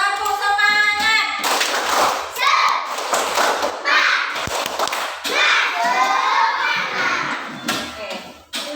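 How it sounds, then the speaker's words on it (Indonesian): Children clap together in a rhythmic spirit-clap chant at a classroom lesson, with bursts of cheering and shouting voices; the clapping and yelling stay loud and close throughout, with a teacher's voice briefly audible. "Sekarang kita tepuk semangat dulu ayo untuk menyemangatkan kita."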